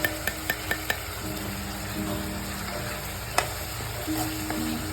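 Malvani masala, coriander powder and turmeric sizzle steadily in hot oil as the spices are stirred for a sprout curry, with a few sharp spoon taps against the pan at the start and another clink near the end.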